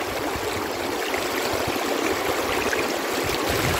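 River water rushing steadily over stones, a continuous broadband flow with faint gurgles, close and even throughout with no voices.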